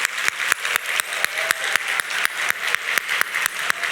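A church congregation at a Sunday university-group worship service claps warmly for visiting guests, a dense, steady wave of applause filling the room with sharp rhythmic claps cutting through the crowd noise.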